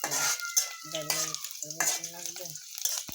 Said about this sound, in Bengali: আমি তেল দিয়ে দিলাম একটা রসুন কাইটা দিচ্ছি রসুন